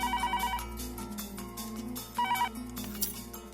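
A phone ringtone plays: a repeating electronic melody in short bursts, one phrase near the start and another a couple of seconds later, fairly quiet.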